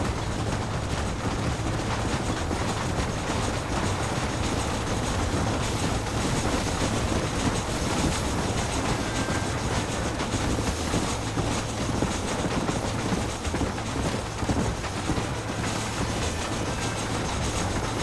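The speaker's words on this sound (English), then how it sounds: "Come on, the train is waiting." Train rolling along steadily in Red Dead Redemption, a continuous dense rumble with faint rhythmic clatter, loud and unbroken for the whole stretch with no talk over it.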